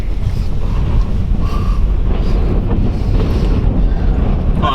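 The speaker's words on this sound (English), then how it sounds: "Oh, no, it's still windy here." Strong wind buffets the microphone in a steady, loud roar with no letup, drowning out everything else.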